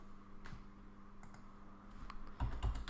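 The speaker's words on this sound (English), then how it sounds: "Just typing the dimension on the keyboard and then continuing forward." Computer keyboard typing a few numbers for kitchen design measurements: sparse, light key clicks spread across the moment, a couple of taps early and a quicker cluster of clicks near the end, close and fairly quiet.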